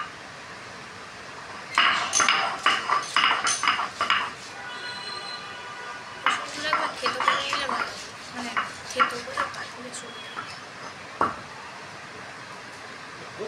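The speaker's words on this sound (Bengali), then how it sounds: "এবার এই রসুনটুকু বেটে নেব" Garlic is pounded in a kitchen, giving bursts of sharp, close clinks and knocks in quick irregular runs, with short pauses between the bursts and one louder strike near the end.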